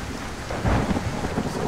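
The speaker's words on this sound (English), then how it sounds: "It's raining." Rain and rolling thunder in the Skyrim video game, a steady hiss of rainfall with a low rumble swelling midway, loud and continuous, with no talking.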